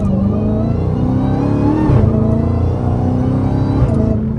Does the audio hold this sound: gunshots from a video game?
no